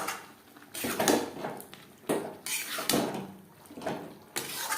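Milk with ground peanut and melon seed paste being stirred in a pan, a spoon scraping and clinking against the metal in short repeated strokes, close and moderately loud with no talk.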